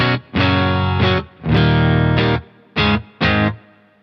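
Electric guitar with reverb played through a Phenyx Pro PTG-11 wireless unit, several loud distorted chords struck in short separate bursts, each ringing briefly before cutting off.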